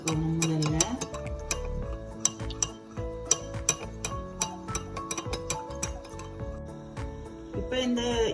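A spoon stirs 70 grams of mixed fruit jelly powder into hot water, clinking lightly and repeatedly against the vessel in an uneven, close rhythm.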